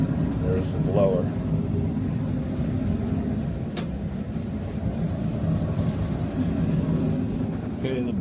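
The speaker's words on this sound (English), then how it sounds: "Okay, the blower is going." Eco-Worthy 5kW cart furnace blower running, a steady low broadband whir close by, with brief faint clicks and a voice speaking over it.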